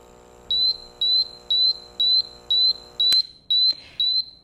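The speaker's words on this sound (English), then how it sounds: "Right now you're hearing the high alarm sound" Honeywell BW Solo ozone detector sounding its high alarm: a loud, steady series of sharp electronic beeps, about two per second, close and alone, with a brief click partway through.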